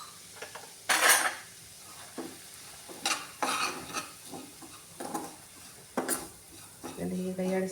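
Semolina (rava) frying in ghee over a low flame, stirred with a spoon that scrapes and clinks against the pan in irregular bursts over a soft sizzle, with no talk.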